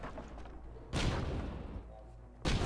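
Explosion on an enemy airship turret in the game Airships: Conquer the Skies: two loud broadband blasts, one at about one second that decays over a second and a half, another near the end, over a low engine drone.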